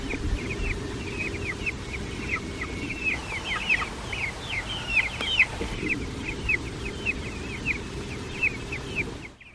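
A homestead flock of laying hens clucking and murmuring continuously, many overlapping calls at close to medium distance over a low background hum, without any speech.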